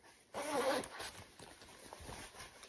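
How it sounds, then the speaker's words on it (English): A jacket zipper is pulled up in one quick, close rasping stroke, followed by faint rustling of the fabric. "I could zip it up well."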